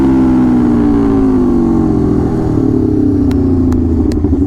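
A 2021-23 Aprilia RSV4 sport bike with an SC Project CR-T exhaust roars loudly and close, its engine note sweeping down steadily, followed by a few sharp crackling pops near the end, with no voices.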